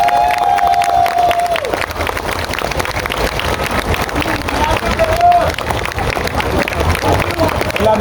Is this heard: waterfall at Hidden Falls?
no